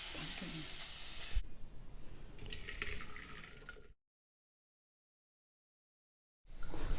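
Mustard seeds and curry leaves sizzle and crackle in hot oil for a Tamil kuzhambu, a loud steady frying hiss for over a second, then quieter kitchen clatter and water sounds, a stretch of silence, and the sizzle returning at the end.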